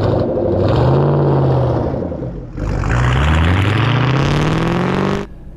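A 2014 Shelby GT500 with a twin-disc clutch launches hard in first gear, its engine revving up loudly, dropping briefly as the clutch bites, then climbing again in a rising roar before cutting off.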